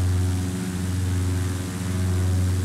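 Simulated Cessna 172 SP single propeller engine at full power for takeoff in X-Plane 11, a steady loud droning hum with a strong low tone, continuous and unbroken.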